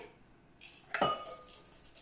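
Crushed almonds and walnuts are tipped into a mixing bowl, making one sharp clink and a brief rattle close by, surrounded by quiet.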